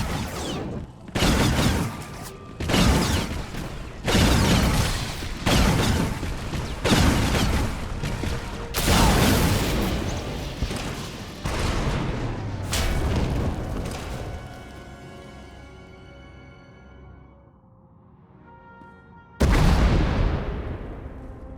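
Video game explosions from Star Wars: The Old Republic: a string of loud, booming blasts one after another at irregular intervals, the last ones fading into a long rumbling tail before a final heavy blast as a tunnel collapses.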